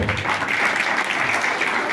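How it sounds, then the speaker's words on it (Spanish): Steady, dense applause from a crowd at a bank inauguration in Tenancingo de Degollado, Mexico, continuous clapping filling the whole stretch without letting up. "El aplauso fuerte para él, por favor."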